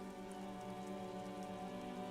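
Steady rain falls in a video game setting, a dense, even hiss of drops on surfaces with a low rumbling undertone, continuous and close throughout with no voices.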